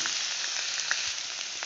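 Grated vegetables with carrot and peas sizzle steadily in a hot pan while being stirred, a dense continuous frying hiss with small pops and scrapes, close and alone.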